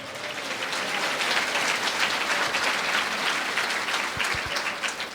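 A church congregation in Sucre, Bolivia applauds steadily through the whole stretch, a dense, even wash of many hands clapping together with no talk over it.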